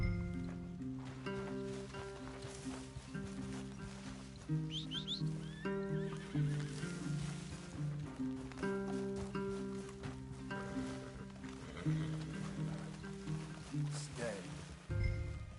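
Horses whinny and neigh among trees in the video game Red Dead Redemption, the animal calls rising over a busy layer of game music, hoof movement and rustling, with talk mixed in.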